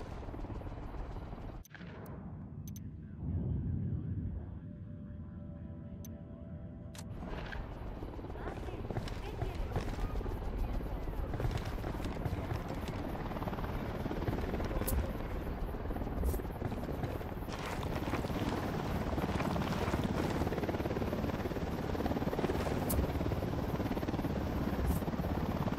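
A recon drone in the video game Ghost Recon Wildlands gives off a continuous, dense, rotor-like buzzing roar that holds steady and loud for the whole stretch, with brief electronic tones and clicks layered in early on.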